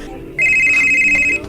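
A cellphone rings with a loud, steady electronic tone that starts abruptly a moment in and holds for about a second before cutting off, set in a restaurant.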